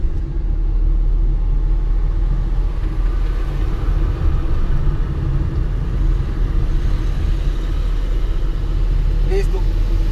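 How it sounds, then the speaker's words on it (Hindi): A car engine rumbles loudly and continuously at close range with a low, steady drone, while a voice speaks over it. "रेस देंगे आप"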